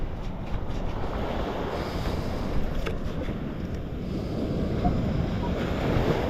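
Ocean waves wash onto a black sand beach as the tide comes in, a continuous broad rushing hiss with wind buffeting the microphone, rising slightly as a wave arrives.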